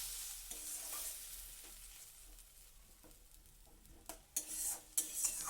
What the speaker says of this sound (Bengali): এবার সব কিছু দিয়ে একটু তেলের মধ্যে হালকা করে ভেজে নিলাম